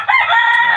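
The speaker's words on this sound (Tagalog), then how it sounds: "Tilawak ng tilawak, hindi tayo marinig." A pet rooster on a provincial backyard farm crows loudly and up close, a single sustained call with no voices over it.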